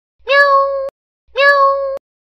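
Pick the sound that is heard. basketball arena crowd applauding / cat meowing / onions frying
cat meowing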